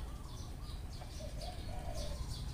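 House sparrows nesting under a house roof give faint, repeated chirps and soft calls over a steady low background rumble, with no talking.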